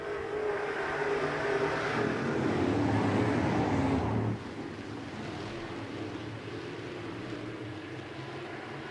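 Modified race cars roar together down the front stretch at Interstate Speedway as the field gets back on the gas for green flag racing, a loud, dense engine wash that drops to a lower steady drone partway through.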